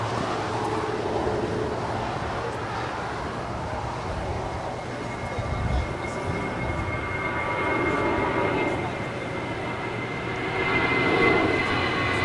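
American Airlines jet taking off from LAX runway 25 right, bound for Phoenix: a sustained, broad engine roar heard from a distance, swelling and easing slightly as it goes on.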